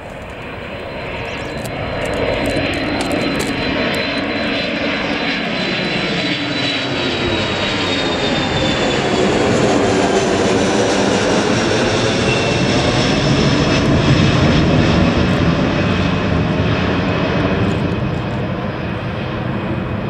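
A KC tanker aircraft takes off from the runway at RAF Mildenhall, where a cable is rigged across it: a loud, continuous engine roar that swells and holds, heard alone without voices.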